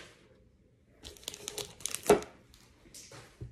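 Foil Pokémon card pack wrapper being snipped and torn open, with a burst of close crinkling and tearing rustles and one sharp rip, with quiet pauses before and after.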